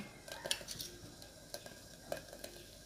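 A spoon stirs semolina into milk in a pot. Faint, quiet clinks and scrapes come in light scattered bursts over a soft background hiss.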